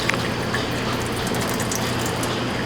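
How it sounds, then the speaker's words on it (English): Liquid poured off a bowl of grated potatoes for rösti, a steady unbroken wash of splashing water running close and alone throughout. "I'm going to pour off some of this liquid"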